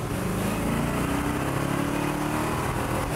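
A 1960s Mercedes engine running at about quarter throttle, a steady, fairly close mechanical drone with a low rumbling hum that holds even throughout.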